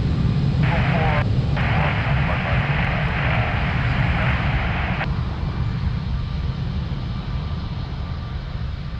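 An airliner taking off at Lisbon Airport, its engines a loud sustained roar and rumble that stays steady throughout, heard under radio chatter from air traffic control.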